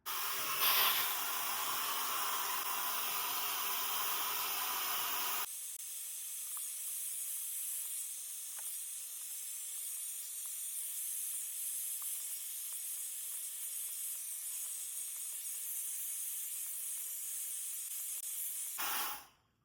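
A TYMO AIRHYPE Lite blow dryer fitted with a diffuser drying curly hair, a steady close airy hiss that shifts to a thinner whoosh partway through before cutting off.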